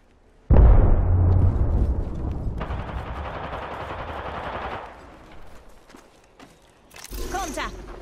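Rapid automatic gunfire from Apex Legends erupts loud and close, runs as a sustained burst, shifts to a second weapon tone, then tapers off before a final crackle of shots.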